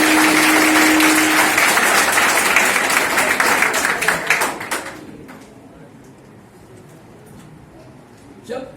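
Audience applause at a school seminar: dense clapping fills the first few seconds, then thins and fades into a quieter room with a few stray sounds near the end.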